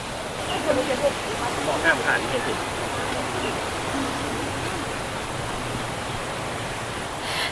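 Water rushes steadily down the Jet Sao Noi multi-tiered waterfall, a constant dense roar with a faint voice briefly under it.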